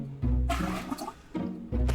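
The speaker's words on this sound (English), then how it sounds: "You can just flush it down the toilet if you want." A toilet flush from the Monster Mop Up video game plays as a rushing gurgle of water with swirling bursts, loud and close, repeating in short surges.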